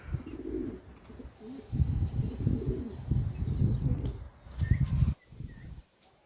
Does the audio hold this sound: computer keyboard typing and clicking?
no